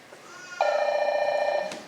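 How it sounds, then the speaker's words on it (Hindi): A phone ringtone rings as one sustained electronic warble for about a second, loud and close, followed by a short burst of a second tone. "अरे फोन बजे।"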